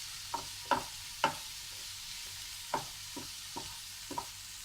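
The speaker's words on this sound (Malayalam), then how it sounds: "തക്കാളി ഒന്ന് നല്ലപോലെ വെന്ത് കിട്ടണം. അപ്പോൾ അതുവരെ ഒന്ന് വഴറ്റിയെടുക്കാം." Tomatoes sauté in a pan for a Malabar dish, with a faint low sizzle broken by about eight light clicks and taps of a spatula, spaced irregularly.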